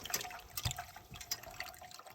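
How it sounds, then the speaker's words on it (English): Water from a 2-litre bottle poured through a boiler's heat exchanger to flush it, giving a soft, irregular trickle and splash with small drips, faint and close, with no voices. "a big 2-litre bottle of water to just flush it all through"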